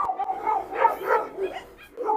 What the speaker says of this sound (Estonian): Kas ta haugub mängu pärast või ründamise pärast?